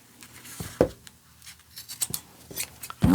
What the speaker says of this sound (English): That's why you need strong scissors.